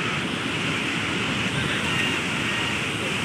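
Sea waves at Juhu beach make a steady, unbroken roar of surf that stays loud throughout, with wind rushing across the microphone.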